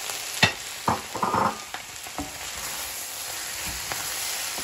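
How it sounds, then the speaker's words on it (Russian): Carrots and rice frying in oil for plov give a soft, continuous sizzle, with a few sharp stirring clatters near the start before the hiss settles to an even level. "Даем буквально 5 минут обжарить морковь и добавляем рис."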